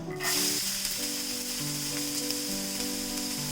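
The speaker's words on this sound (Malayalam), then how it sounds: "അപ്പൊ നമ്മുടെ എണ്ണ ചൂടായിട്ടുണ്ട്. നമ്മൾ അരിഞ്ഞു വെച്ചിരിക്കുന്നത് നമ്മുടെ സവാള ചേർത്ത് കൊടുക്കാം." Chopped onion hits hot coconut oil with a sudden loud sizzle that settles into a steady, close, crackling hiss, with no talk.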